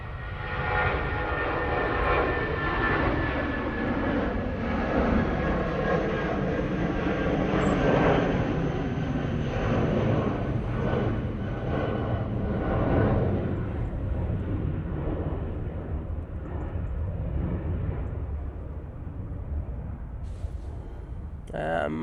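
A British Airways airliner on its takeoff roll at Manchester Airport, a long, steady jet engine roar with broadband rumble that holds for over twenty seconds, heard from some distance with faint talk now and then.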